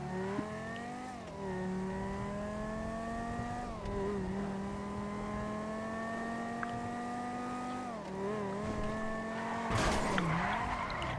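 A race car in GTA 5 spins out in a long online race. Loud, sustained tire squeal wails and bends in pitch over a droning engine, with a harsher scrape near the end.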